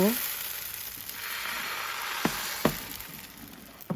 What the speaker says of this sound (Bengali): এখন আমি অল্প অল্প করে বেটার দিয়ে প্রথমে একটা রুটি বানিয়ে নিব